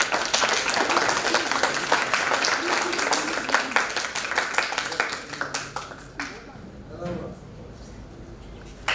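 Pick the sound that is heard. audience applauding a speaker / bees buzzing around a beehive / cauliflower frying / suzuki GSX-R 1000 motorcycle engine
audience applauding a speaker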